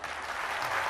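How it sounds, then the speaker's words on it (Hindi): A crowd claps steadily at a devotional gathering, a continuous wash of applause with no talk over it. "लेकिन ताली तो बजा दीजिए"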